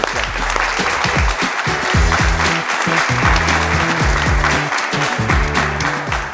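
An audience applauds the six candidates at the CréaMasters 2025 final, a loud, sustained ovation of many hands, with low musical tones running underneath throughout.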